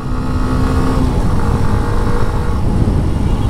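A Hero Extreme 125 motorcycle engine runs close and loud, a steady unbroken drone that holds its level throughout.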